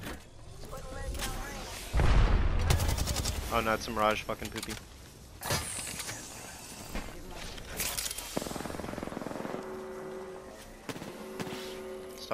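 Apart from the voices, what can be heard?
gunfire in the video game Apex Legends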